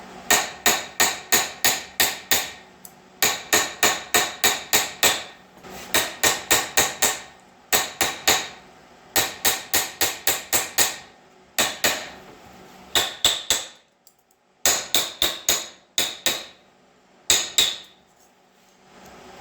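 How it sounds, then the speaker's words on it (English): A piece of sheet metal held in a vise being hammered during a 1950 Chevy truck cab conversion. Loud, sharp metallic strikes land in rapid bursts of four to six blows with short pauses between. "All I do is I go over in the vise here and I hit it."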